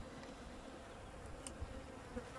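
Honeybees buzz around an opened spring hive, a faint continuous hum with no talk, steady throughout.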